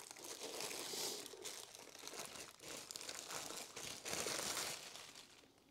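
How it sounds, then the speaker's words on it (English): A GOLABS R300 portable power station is pulled from its plastic packaging, with steady, close crinkling and crumpling that swells in two louder bursts, and no voices. "let's take that out of the packaging"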